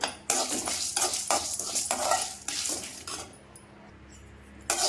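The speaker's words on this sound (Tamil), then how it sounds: "இந்த துவரம் பருப்பு கூடயே ஒரு அஞ்சு வரமிளகாயை போட்டு அது கூடயே வறுக்கிறேன்" A spoon stirs toor dal and dried red chillies as they dry-roast in a pan, making repeated close scraping and rattling strokes before a short lull and one final scrape.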